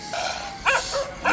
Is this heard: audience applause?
no